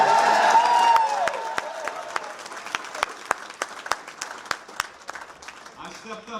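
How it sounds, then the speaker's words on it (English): A crowd applauds at an election campaign event, thick clapping and a cheering voice at first, then thinning into scattered individual claps near and far. "Give them a big round of applause."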